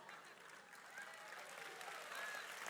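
A comedy-show audience claps in a steady, even wash of applause that is quite faint and distant, with a faint voice underneath.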